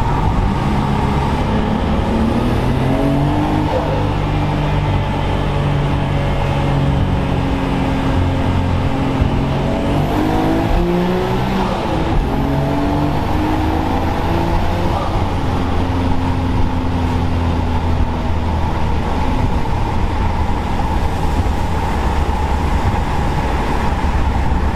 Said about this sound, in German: könnt ihr euch das nochmal anhören, weil wir haben hier eine Abgasanlage gebaut